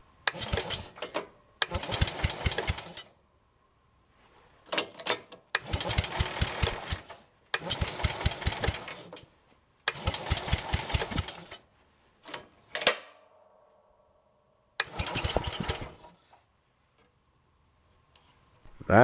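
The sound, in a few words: John Deere 110 lawn tractor engine running on test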